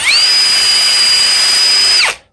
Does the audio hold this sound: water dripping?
no